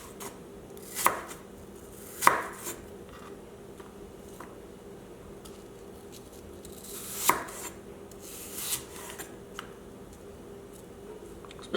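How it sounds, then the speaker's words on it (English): A knife cutting apple wedges into slices and matchsticks on a board, a handful of sharp, separate chops spread irregularly over a quiet background, near and clear, with no speech. "Turn the wedges into slices, slices into matchsticks."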